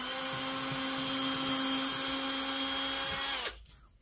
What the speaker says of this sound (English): we want to drill holes in the center